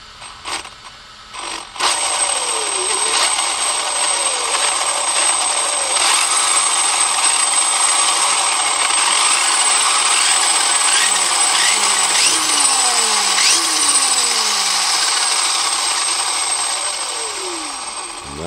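Electric motor of an Arrma Kraton RC car with a Castle controller, revved with the throttle trigger; a close, high whirring whine rises and falls in repeated swooping bursts without reaching full throttle.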